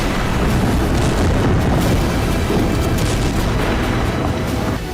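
Air strikes by Israeli forces hammer a Hezbollah base and warehouses in southern Lebanon, a dense, continuous roar of deep booms and rumbling blasts at high level throughout, with no pauses between impacts.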